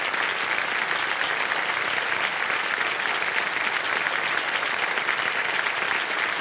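Continuous, even studio audience applause on a quiz game show, many hands clapping steadily at a loud, constant level for the entire stretch with no speech over it.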